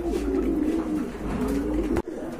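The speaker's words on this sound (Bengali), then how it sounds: "এখানে কিন্তু আরেক জোড়া রাজগোল্লা কবুতর আছে" Rajgolla pigeons coo close by in a low, steady, throaty murmur that carries almost unbroken before a brief knock and a short pause.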